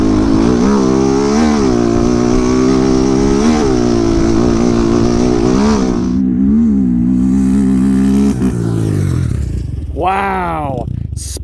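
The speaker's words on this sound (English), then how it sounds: "I'm gonna do this launch in first gear" Honda 400EX quad fitted with a big bore kit and cam launches in first gear, the engine revving loud and close with steady rising harmonics, then cutting back and revving again near the end.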